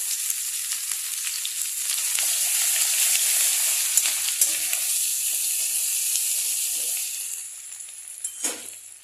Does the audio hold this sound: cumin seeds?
yes